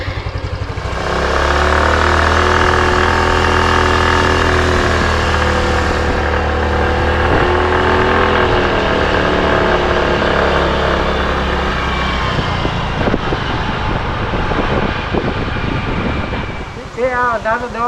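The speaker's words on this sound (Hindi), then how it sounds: "मैंने कहा बाइक पर ही चलते हैं अपनी" A motorbike engine drones steadily while riding in Thailand, a sustained mid-pitched hum with continuous wind and road noise, loud and close throughout, turning rougher and choppier near the end.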